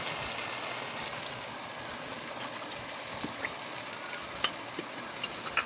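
Ginger paste frying in oil with garlic on a stove, a steady soft sizzle with a few faint utensil taps, no voices.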